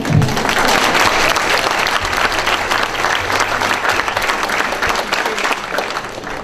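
An audience at a morning-show panel discussion breaks into sustained applause, steady loud clapping filling the room for several seconds before easing slightly at the end.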